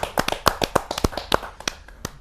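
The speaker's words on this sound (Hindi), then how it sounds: "जोरदार तालियों के साथ हम उनका स्वागत करें" An audience claps to welcome a poet at a Hindi kavi sammelan, a sparse, uneven patter of hand claps from a small crowd, close and fairly crisp.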